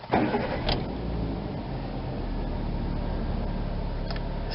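A car engine, freshly refilled after an oil change, cranks and catches with a brief burst, then settles into a steady, low idle that continues to the end.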